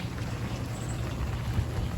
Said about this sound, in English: it's still raining, raining, raining.